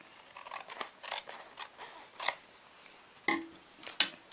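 Scissors snip through a stack of junk journal pages, with a series of irregular crisp cuts and rustles, fairly close and quiet, ending in two sharper clips.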